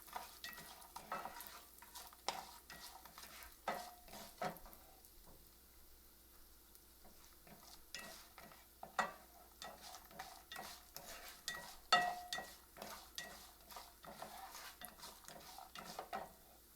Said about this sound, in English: So I am going to fry it in a low flame